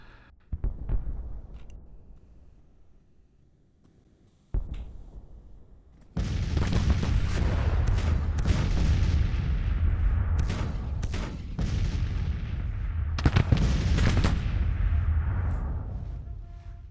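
Civil War artillery and massed musket fire in the strategy game Grand Tactician: Civil War: a couple of isolated booms first, then a loud, sustained roar of overlapping cannon blasts and volleys that rumbles on without a break.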